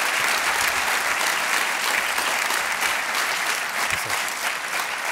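Large conference audience at a keynote opening gives loud, continuous applause, a dense even wash of clapping that holds steady throughout.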